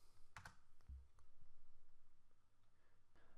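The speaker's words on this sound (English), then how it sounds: "I'm going to type in the SharePoint URL." Someone types a web address on a computer keyboard, producing a few quiet, scattered key clicks, with a sharper cluster near the start and sparse taps after, in an otherwise quiet room.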